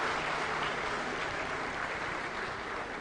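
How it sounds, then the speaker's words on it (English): Steady, even applause from an audience at a national energy conservation awards ceremony, a continuous wash of clapping with no voices on top. "A thunderous round of applause"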